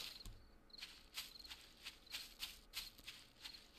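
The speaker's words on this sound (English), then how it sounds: "So usually when you hear these crickets, it's time to start heading back to base or shelter." Crickets chirp at night in the video game Darkness Falls, a soft, steady run of repeated high trills pulsing about every half second, faint and alone.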